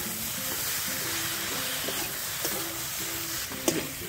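Okra, potato and chopped tomato fry in a pan over a village wood fire as they are stirred, producing a constant loud sizzle with occasional scraping knocks and soft music underneath.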